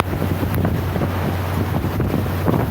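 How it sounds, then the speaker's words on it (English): Strong Hurricane Ida wind roars steadily and loudly against the microphone, a constant buffeting rush with a deep low rumble throughout. "We've had winds probably 120, gusts to 140."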